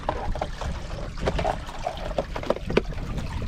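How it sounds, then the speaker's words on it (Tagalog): Water splashes and trickles steadily into a container, a continuous wet rushing sound with small gurgles, close by and fairly loud. "Pasok na yung tubig."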